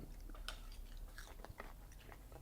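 Someone bites and chews crispy air-fried chicken parmesan, producing several close crunches and chewing sounds in an uneven rhythm, with no talking.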